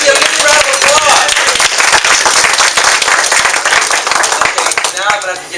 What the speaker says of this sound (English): Give Angie a big round of applause.